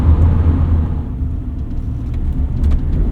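A 1988 Honda Prelude Si with an automatic transmission is driven on the road. The engine gives a steady low rumble and drone with road noise heard from inside the car, rising slightly near the end, loud and continuous with no voices.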